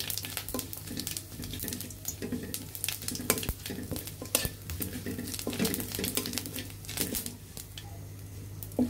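A spoon stirs cumin, fenugreek and radhuni frying in oil in a pan, making repeated scraping clinks against the metal over a continuous close sizzle.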